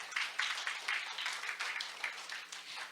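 Audience applause for the ambassador at a maritime women's session, steady clapping from a moderate crowd that swells in rhythmic waves for several seconds.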